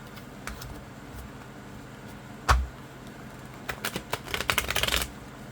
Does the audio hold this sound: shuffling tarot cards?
yes